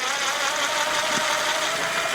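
A Shindaiwa edger engine runs steadily at a low, unchanging speed that never climbs, a close and fairly loud mechanical drone with no voices.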